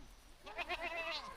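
A farm goat bleats a few times in quick succession, fairly close and moderately loud, with a steady low background hum and no voices.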